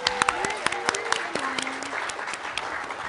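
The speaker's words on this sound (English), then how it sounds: "A round of applause for Teresa MacBain." Applause from the audience for a panelist at a national atheist convention, a steady spattering of hand claps that stays fairly close and even, with a voice speaking over the first half.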